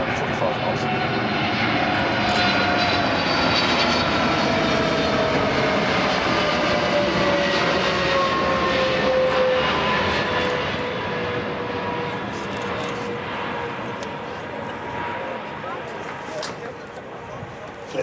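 A Boeing 777 airliner flying low and slow on landing approach at an air show, a loud, sustained broadband engine roar that slowly fades toward the end, with someone talking over it.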